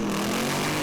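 The engine of a Pro Alcohol funny car at a drag race at Willowbank Raceway roars loud and steady in a dense, sustained burst as the revs build.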